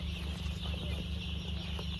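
Eight-day-old poultry chicks on a poultry farm in Ghana give soft, faint chirping and clucking as a flock, heard throughout over a steady low mechanical hum.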